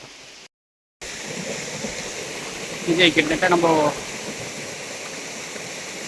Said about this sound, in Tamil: இங்கே ஓடையில் வர தண்ணி சவுண்டு கேட்கணும்னு நினைக்கிறேன் உங்களுக்கு